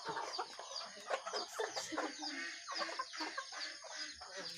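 Native chickens cluck and chatter continuously nearby, a busy overlapping flock with bright, repeated calls and no talking.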